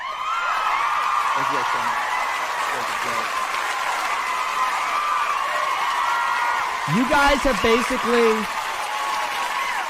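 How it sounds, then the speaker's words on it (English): A live audience claps and cheers in a steady burst of applause at the end of a long streamed talk show, with someone speaking over it and a few whoops rising near the end. "Give yourself a round of applause."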